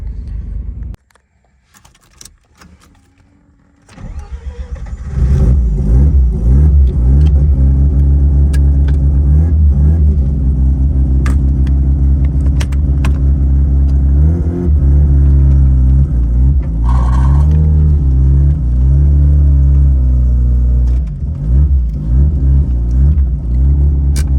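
A Mazda RX8 rotary engine starts up close and loud after a quiet moment, then idles and revs in rising and falling sweeps with a steady rumbling drone. Keys jangle briefly near the start.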